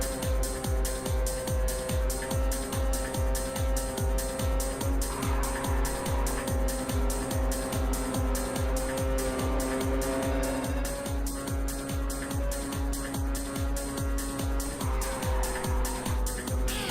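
A race car in Ridge Racer 7 roars through a nitrous drift, engine droning steadily with a rapid, rhythmic pulsing and tire squeal running continuously and loud throughout, no other sounds breaking through.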